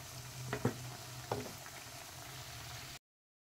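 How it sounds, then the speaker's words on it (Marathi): Cutlets shallow frying in oil in a pan give a soft, steady sizzle with a couple of brief clicks and spatters, quiet overall and cutting off abruptly near the end. "आपण कटलेट तळून घ्यायचे सर्व, चांगले भाजून घ्यायचे।"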